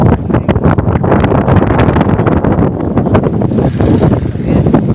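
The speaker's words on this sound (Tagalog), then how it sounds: "Mahangin." Strong wind buffets an outdoor microphone beside the Bitbit River, a steady loud rumbling roar with gusty pulses throughout and no voices.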